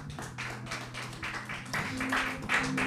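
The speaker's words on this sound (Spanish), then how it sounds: "Démosle un fuerte aplauso al Señor." A church congregation breaks into applause, a fairly steady patter of many hands clapping for nearly three seconds, with a low tone of music or voices running faintly beneath.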